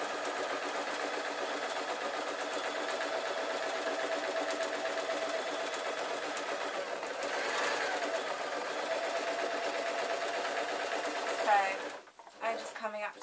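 A sewing machine stitches a hedgehog tote bag in a steady, continuous run of rapid needle strokes, stopping near the end with a few short bursts.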